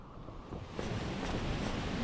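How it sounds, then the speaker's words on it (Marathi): A waterfall in the Sandhan Valley near Kalsubai rushes in a constant broadband roar, swelling louder about a second in, with wind buffeting the microphone. "पाण्याचा पण आवाज खतरनाक येतो इथून."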